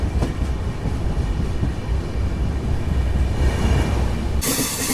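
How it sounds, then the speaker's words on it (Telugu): Kerala SF Express train 12625 pulls out of Tiruvalla with a steady low rumble and rolling clatter of wheels on rail, loud and continuous from nearby, ending in a sudden burst of bright hiss. "మన ట్రైన్ వచ్చేసి తిరువల్లా నుంచి అయితే బయలుదేరిపోయింది."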